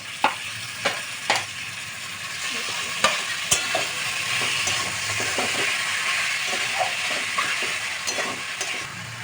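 Mutton ghugni with spices and tomato frying in a pan while being stirred, a continuous loud sizzle broken by repeated sharp scraping knocks of the spoon, spaced unevenly throughout.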